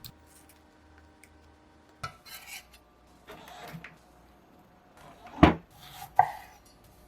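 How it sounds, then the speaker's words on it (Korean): A knife chopping tomatoes on a board gives a few sparse, close cuts, with two sharper knocks near the end after a quiet start. "토마토는 반으로 자른 다음"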